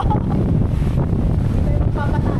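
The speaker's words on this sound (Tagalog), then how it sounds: "Wow, what a windy day." Strong seaside wind in Manila buffets the microphone in a steady low roar, loud and continuous throughout.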